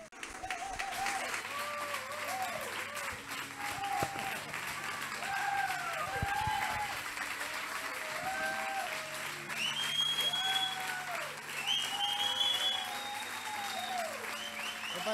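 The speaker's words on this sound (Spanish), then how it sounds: "Con este fuerte aplauso recibimos al anciano Juan" Strong applause from a church congregation welcoming an elder at a prophetic training centre service, a steady dense wash of clapping mixed with crowd voices and shouts throughout, with occasional vocal calls rising above.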